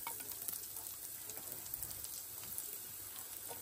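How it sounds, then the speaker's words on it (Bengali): Garlic cloves dropped into hot oil already tempered with nigella seeds, a continuous crackling sizzle with fine irregular pops and spits, close and fairly quiet, with no talk over it. "এই কালিজিরা ফোড়নের মধ্যেই আমি রসুনগুলা ছেড়ে দেব"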